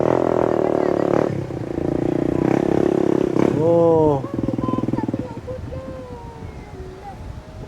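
A motorcycle engine revs and strains nearby, its pitch rising and falling as it climbs a steep hill, with people talking over it and wind noise on the microphone.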